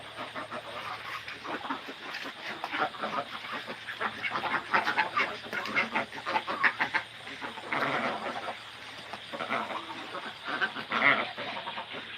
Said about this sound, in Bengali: তো আমার এখানে খুব সুন্দর তিনটা হাঁস আছে এগুলো সাদা কালারের